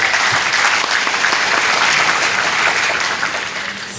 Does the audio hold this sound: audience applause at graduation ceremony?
yes